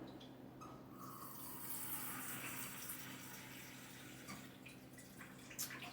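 Water runs steadily into a small cooking pot, 1.5 cups filled from a tap, a soft continuous pouring with light splashing throughout and no one speaking.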